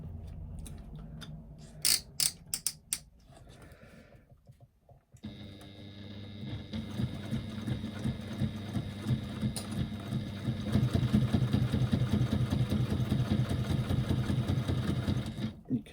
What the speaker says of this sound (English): I'm now going to top stitch along the outside edges.